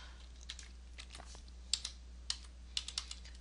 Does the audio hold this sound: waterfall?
no